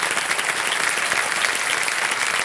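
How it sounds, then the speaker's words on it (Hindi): Studio audience on a televised quiz show breaks into steady, dense applause, loud and continuous throughout with no voices over it. "तालियां बज जाएं इनके लिए।"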